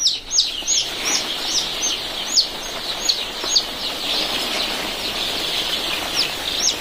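A lone day-old desi chick on a local chicken farm, peeping in repeated high, thin chirps at a quick, uneven rhythm, close and clear.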